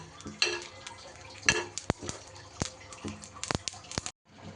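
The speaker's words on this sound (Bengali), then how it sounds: "এই মশলাটুকুই আমি একটু গরম করে নিয়ে তারপরে গুঁড়ো করে নেব" Panch phoron and cumin seeds dry-roasting in a pan, heard as close, light rattling and scraping of a spoon against the pan with soft crackles and a few sharp clicks.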